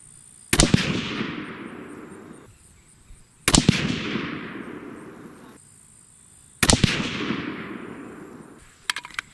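Three sharp, loud rifle shots from a Savage 12 in 6.5 Creedmoor, fired a few seconds apart, each crack trailing off in a long rolling echo outdoors.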